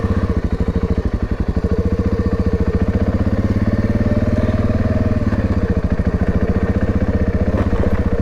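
An adventure motorcycle engine idles steadily on an off-road ride in Big Bend National Park, a loud, even low rumble with rapid regular firing pulses and no talk.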